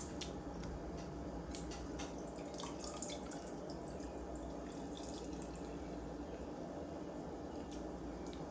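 Lone Pine Choco Tuesday imperial stout pours from a can into a stout glass, a steady close liquid gurgle and splash with drippy bubbling, and no talk.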